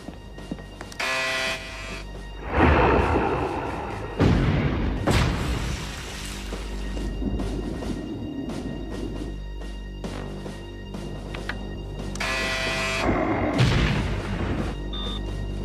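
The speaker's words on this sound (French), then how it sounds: "Les torpilles numéro 1 et 2 ont explosé, commandant." Two torpedoes detonating in a dramatic film, as several loud booming explosions with deep low rumble, separated by rumbling reverberant stretches and sharp bursts, with no talking over them.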